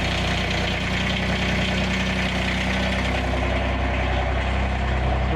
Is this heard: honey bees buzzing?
no